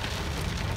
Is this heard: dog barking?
no